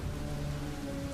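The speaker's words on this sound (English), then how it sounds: "There is a storm outside and the ship is going to be torn apart." A stormy sea rages around a ship in a sound effect, with steady hissing rain and a low rumble continuing evenly throughout at a fairly quiet level.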